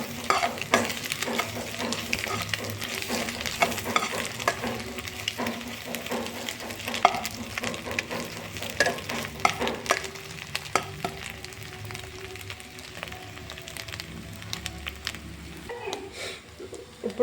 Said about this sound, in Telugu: వన్ స్పూన్ కారం వేసాక ఇలా కలుపుకోండి